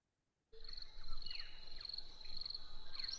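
Recorded birdsong starts abruptly after a moment of silence for a guided breathing session: a steady high chirring trill with scattered soft chirps, fairly faint over low background hiss.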